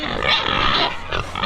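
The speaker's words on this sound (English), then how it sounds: "here is the wean and pig pen. They've been fed a lot. They just want more." Weaned pigs in a farm pen, recently fed and eager for more, grunt and oink close by in a dense, overlapping burst of snorting calls.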